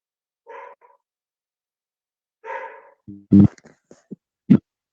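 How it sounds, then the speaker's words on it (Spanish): A pet dog barks a few sharp, loud times close by, with short separated yaps and a couple of softer bursts between them, in a quiet room with no talking. "Me está contestando mi perra."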